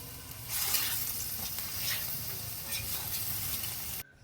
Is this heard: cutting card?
no